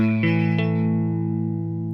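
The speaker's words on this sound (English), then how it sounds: "Practice holding those 3 notes out." An electric guitar power chord struck and held, with a second strum shortly after, its thick distorted tone sustaining and slowly fading as it rings out.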